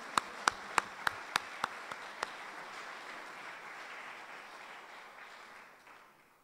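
A few sharp claps ring out at a conference, then a soft wash of audience applause that gradually fades away.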